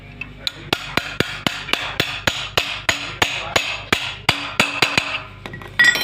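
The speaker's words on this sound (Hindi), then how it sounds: "ये पिन हमारी थोड़ी सी टाइट हो जाएगी, ठुक के जाएगी, ठुक के बैठेगी" Sharp metallic hammer blows drive a cam pin into a Honda CG 125 motorcycle engine, about seventeen close, evenly spaced strikes with a slight ring, heard alone with no talk.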